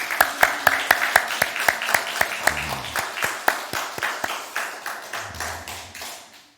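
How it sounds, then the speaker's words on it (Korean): A small church congregation claps to welcome guests at a Sunday service, with sparse, distinct handclaps that start in a quick rhythm and gradually slow and soften. "우리 큰 박수로 환영 들어가십시다"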